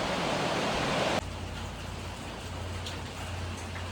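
Steady broadband hiss of rain pouring down, loud and continuous, with a sudden drop in level partway through and a low hum underneath.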